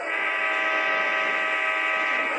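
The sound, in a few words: train horn in video game Choo Choo Charles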